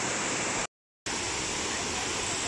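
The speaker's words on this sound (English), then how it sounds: "we'll be able to have a view of the waterfall going into the cave" Water from a waterfall pours into a cave as a steady, loud rushing hiss, broken once by a brief moment of silence before the torrent resumes.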